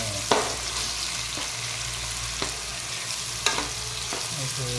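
Onions frying in oil over ginger and garlic for a chicken curry, a continuous close sizzle broken by a few sharp scrapes of a spoon stirring the pan, with no talking.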